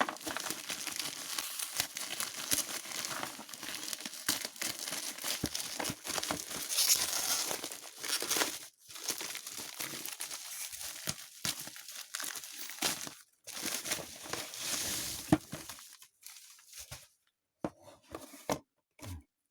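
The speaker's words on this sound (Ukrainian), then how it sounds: "Свіжі посилочки від китайців будемо відкривати." Parcels shipped from China being unwrapped: plastic and paper packaging crinkles and tears close by in irregular bursts with brief pauses, ending in a few separate rustles.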